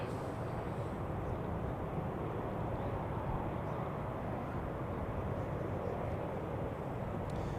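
Airliner Swiss flight 86 at Zurich Airport during a storm, a steady, broad jet rumble held throughout, close and fairly loud, mixed with wind buffeting.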